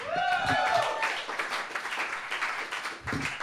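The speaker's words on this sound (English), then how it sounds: "Keep the claps going for Mr. Sam Zavan" An audience at a comedy show clapping and cheering for a comedian, a close, steady patter of applause following a raised voice, with a brief whoop at the start.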